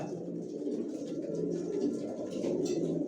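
Racing pigeons in a breeding loft coo in soft, low, rolling calls that overlap continuously, close by and moderately loud, with no voices.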